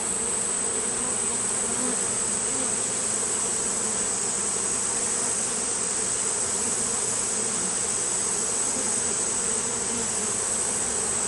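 Honeybees buzzing around an open hive during an inspection, a dense, steady hum of many insects close by that holds unbroken the whole time with no talking.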